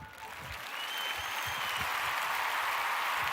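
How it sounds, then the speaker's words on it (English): Applause from a crowd builds and holds as a dense, steady wash of many hands clapping, moderately quiet and without speech. "the clapping sound effects have definitely come in really, really handy"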